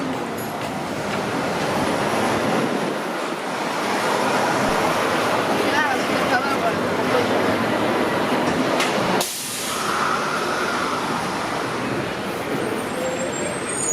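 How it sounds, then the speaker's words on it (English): A streetcar arriving on a busy Queen Street West in downtown Toronto, a broad rumbling roar of rail and traffic noise amid city bustle, with a sudden loud hissing burst near the end. "I want to see if I can get a thumbnail of that streetcar coming in."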